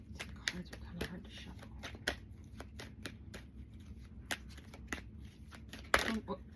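Tarot cards shuffle in quick riffling bursts and taps, close by, with a louder flurry near the end and faint talking underneath.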